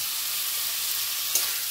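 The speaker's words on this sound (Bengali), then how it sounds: "আলু আর এঁচোড় একসাথে কষে নেব।" Potatoes and green jackfruit stir-fried in spice paste for enchor kaliya, sizzling in a steady, dense hiss close by, with one brief scrape of a spatula and no voices.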